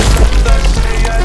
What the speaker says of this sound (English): It is not thunder, just the sound of lightning.